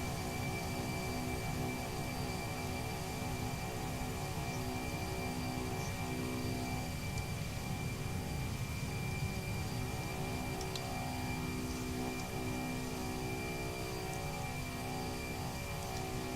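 Steady airplane engine drone just after takeoff, heard from inside the aircraft as a continuous, loud hum with sustained tonal whine and no talk.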